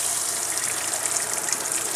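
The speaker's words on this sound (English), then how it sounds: "Beautiful water coming out now, unlike before" Water gushing hard from a camper shower head after a low-pressure fix, a steady broadband spray rushing continuously at close range with no voices.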